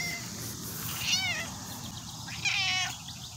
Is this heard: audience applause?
no